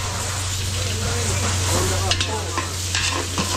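Garlic and onion sautéing in a large catering pan at an outdoor street party in Caloocan City, a loud continuous sizzle over a low steady hum, with a few sharp scrapes of a spatula near the end.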